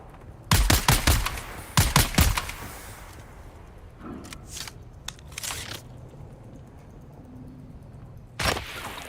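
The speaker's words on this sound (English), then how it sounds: "They're gonna keep shooting at me, aren't they?" Gunfire in the Dune Awakening video game comes in two short, sharp volleys close together. A quieter stretch follows with faint scattered noises, then a final single burst near the end.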